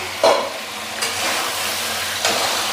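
Eggs go into a sizzling pan of vegetable masala for egg beans curry, with a few distinct scraping stirs over a steady, moderate fry.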